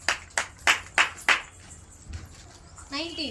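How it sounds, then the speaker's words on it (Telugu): Hands clapping to congratulate a correct answer in a number guessing game, five sharp, evenly spaced claps close by, then a voice briefly at the end. "గట్టి చప్పట్లు కొట్టండి."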